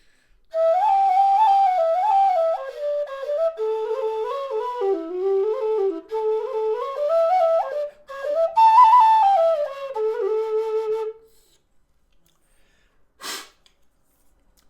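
A metal low D whistle plays the B part of the Irish folk tune The Little Beggarman alone, phrases flowing for about eleven seconds before stopping, followed by a brief breath.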